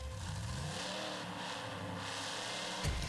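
A monster truck engine revs hard and steadily in the Monster Truck Championship video game on Xbox Series X, a loud sustained roar that cuts off abruptly near the end.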